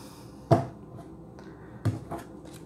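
Tarot cards being cut and shuffled by hand: a sharp close slap of the deck, a pause, then two softer card flicks, quiet and isolated with no talking.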